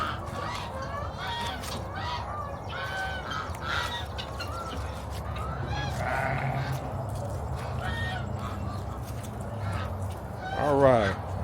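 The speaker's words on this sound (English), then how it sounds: "Look at the little baby lambs." Baby lambs bleat amid a flock of sheep and fowl such as geese, with several thin, wavering cries close by. People talk over the animal noise.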